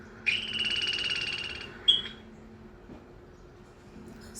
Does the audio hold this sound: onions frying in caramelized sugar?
no